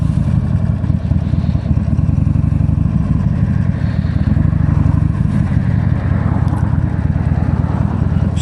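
Motorcycle engine running steadily while riding along a road, a dense, continuous mid-range drone with road and wind noise, close and loud, with no talking.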